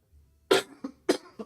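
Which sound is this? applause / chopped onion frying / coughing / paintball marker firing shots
coughing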